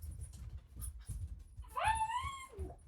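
Excited dogs whimper and whine indoors, with high, rising cries and soft yips in the background, building near the end of the short stretch.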